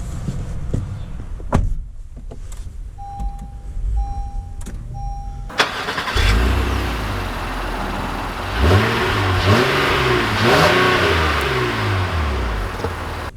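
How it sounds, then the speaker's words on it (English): A 2020 Honda Passport Elite engine catches and starts, then revs and accelerates loudly through several rising and falling gear pulls, close and steady with no talking. "let's take this Passport out and see how it drives."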